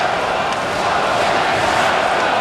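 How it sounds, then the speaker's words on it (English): Oshawa Generals fans chant in a hockey arena in Quebec City, a broad, steady roar of massed voices filling the space, with no single voice standing out. "The crowd, you hear them chanting."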